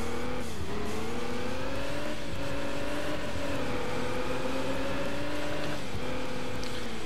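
A race car tears past in the video game Alarm für Cobra 11, its engine a steady, loud revving whine that rises and falls in pitch as it accelerates, with a brief tire squeal.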